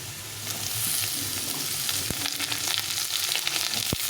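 Chunks of elephant foot yam fry in hot oil in a pan alongside already browned potatoes, giving a loud, close, continuous sizzle with scattered spatula scrapes and ticks.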